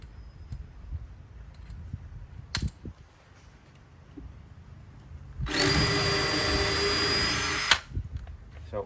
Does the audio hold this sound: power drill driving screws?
yes